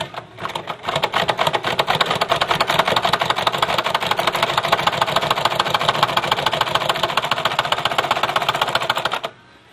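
A sewing machine stitches a half collar for a kameez, running in a steady, fast, continuous whir of needle strokes for about nine seconds, close and loud, with no talking.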